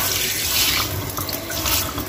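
Tap water runs steadily into a kitchen sink, flushing loosened residue down a drain that was just unclogged, a continuous close hiss and splash with no talking.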